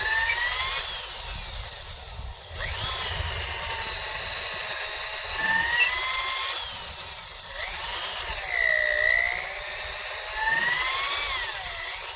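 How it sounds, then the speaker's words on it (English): A power drill whines continuously as it bores at an angle into hard locust wood, its pitch bending and straining with brief dips between pushes. "Now I'm gonna take this drill bit at an angle on each side."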